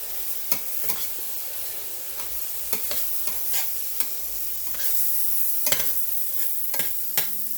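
Shiitake mushrooms and vegetables stirred together in a hot skillet, with a steady low sizzle broken by repeated sharp scrapes and clacks of the utensil against the pan, close by and with no talking.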